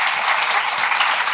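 A business conference audience claps for tech company CEOs, producing a brief burst of loud, dense applause from many hands, sustained evenly without any speech on top.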